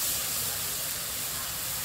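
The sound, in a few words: pureed tomatoes added to frying onions in pan, sizzling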